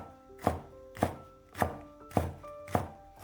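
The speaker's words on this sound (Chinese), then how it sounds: "半个青椒先切成细丝" A knife chops half a green bell pepper into thin strips on a cutting board, six crisp, evenly spaced thunks close up with nothing else audible.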